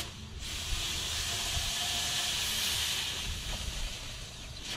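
Air hisses steadily through the oil line of a Mercury Optimax 225 outboard's oil tank, a soft continuous rush lasting several seconds, close and fairly quiet.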